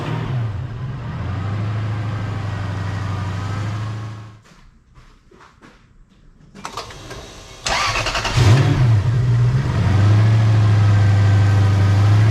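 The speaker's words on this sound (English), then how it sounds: "All right, ready to fire her up." A car engine idles, cuts off briefly, then cranks and fires up again after an alternator replacement, settling back into a steady, close idle hum with a rev at the restart.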